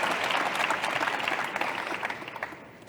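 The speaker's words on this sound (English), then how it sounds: "Please give a round of applause again." Steady applause from a crowd, a dense, even clatter of many hands clapping that fades slightly toward the end.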